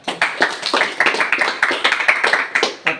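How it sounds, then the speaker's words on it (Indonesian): A group claps together at a vocational school gathering, with sharp, rhythmic rounds of hand claps repeating steadily and loudly up close for several seconds. "tepuk tangan."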